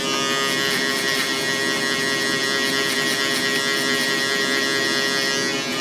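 Wahl 5-star electric hair clipper fading hair at close range, a loud continuous motor buzz with steady tone and only slight fluctuations as it moves along the head, no talking.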